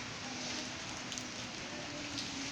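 Rain during Cyclone Remal in Narayanganj keeps up a steady, even hiss throughout, with no voices over it.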